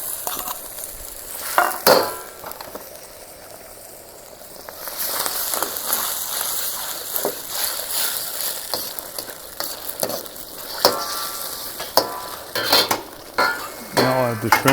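Pineapple chunks and vegetables stir-fried in a sweet and sour sauce thickened with cornstarch: a steady close sizzle broken by scraping stir strokes and sharp utensil clanks against the pan, with no talking.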